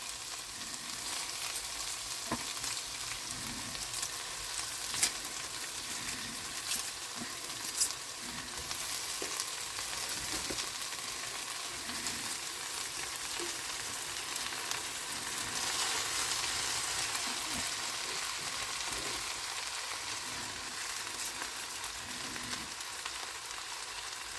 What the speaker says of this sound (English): throw your cabbage in and just break it up a little bit with your hands